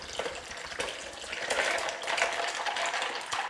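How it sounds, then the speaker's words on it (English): Iced water pours steadily from one pitcher into another, a close, continuous splashing gush that swells slightly in the middle, with no voices. "And yes, I'm using a pitcher to fill a pitcher."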